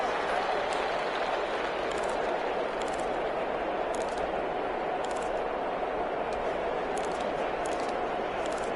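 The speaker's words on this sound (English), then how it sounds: "The crowd getting into it as we come up on a big 3rd down." Stadium crowd cheering in an EA Sports football video game, a dense, steady roar of applause and shouting that stays loud and unbroken throughout, with brief clicks scattered on top.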